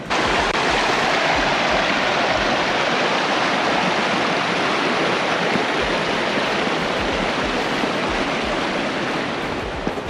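A river stream flows steadily beside a trail in a canyon of Angeles National Forest, a dense, continuous rushing of water, loud and close, with no voices.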